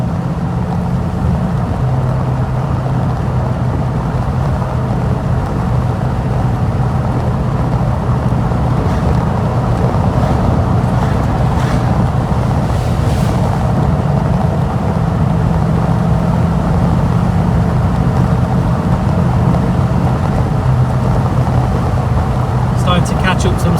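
A V8 car engine cruising on roads through the Derbyshire Peak District, a steady low drone that stays loud and continuous throughout, with occasional rises in revs and some wind noise.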